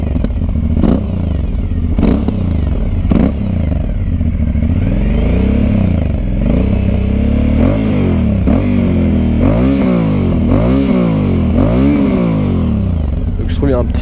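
Aprilia Shiver 900 motorcycle engine and exhaust heard while riding, loud and continuous, with repeated rising and falling revs through gear changes and a few sharp pops between shifts.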